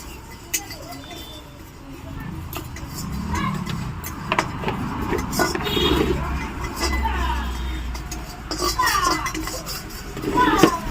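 Fenugreek and fennel seeds dry-roasting in a hot wok with no oil: scattered metallic scrapes and light clinks of stirring under a woman's steady speech and kitchen background noise.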